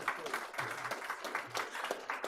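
A city commission meeting audience applauds for a couple of seconds, a faint, scattered patter of hands clapping in the room while a voice speaks over it.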